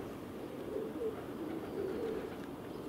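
A flock of rock pigeons coos softly and repeatedly at a moderate distance, low murmuring calls overlapping against a steady outdoor background hum.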